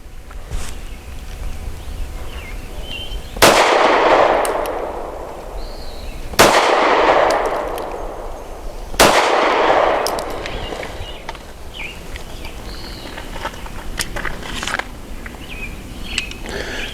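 Three loud Steyr M9-A2 pistol shots spaced a few seconds apart on an outdoor range, each crack trailed by a long reverberating decay, with faint bird calls and background noise between shots.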